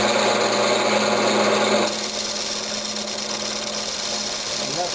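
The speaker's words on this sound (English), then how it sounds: "Okay, now I'm just trying to cut this tenon." A wood lathe spins an apple burl blank while a tool cuts a 3/8-inch tenon for a turned travel mug, giving a steady loud whirring hum with scraping, which drops to a quieter, softer cutting tone partway through.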